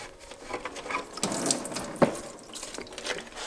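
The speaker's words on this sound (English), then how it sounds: "I'm just gonna drain the coolant out of it" Coolant drains from a 1000+ horsepower stock car engine that is being pulled, in a steady watery trickle and splash, close by and moderately loud, with one brief knock near the middle.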